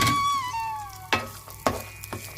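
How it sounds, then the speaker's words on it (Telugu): Amla (Indian gooseberry) pieces go into hot oil and sizzle steadily, with a couple of sharp clinks from the pan and a faint high tonal sound at the start. "ఇప్పుడు ఆయిల్ హీట్ ఎక్కిన తర్వాత ఈ ముక్కల్ని ఇందులో వేసేస్తున్నాను."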